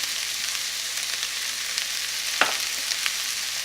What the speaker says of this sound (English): Keep stirring your onions to make sure that they don't stick to the bottom